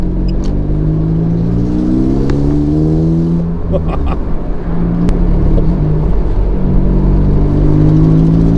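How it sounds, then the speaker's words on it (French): A Morgan Plus 4 sports car on the move, its exhaust giving a loud, continuous low burble and drone with rising and falling engine pitch as it drives, heard from close by without speech. "On a une sonorité à l'échappement qui est incroyable"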